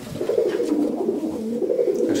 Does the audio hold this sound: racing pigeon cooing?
yes